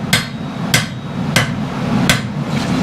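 Four evenly spaced hammer blows ring out as a blade is forged at the anvil, each crisp metallic strike standing out clearly over a constant low background drone.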